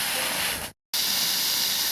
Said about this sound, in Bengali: সেই গরম তেলে আমরা চিংড়ি মাছ দিয়ে দিয়েছি